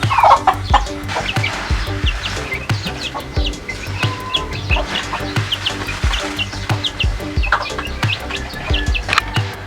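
Native chickens cluck continuously at a rural farm, a busy layered mix of hen clucks and bird chirps, close and steady, with no talking.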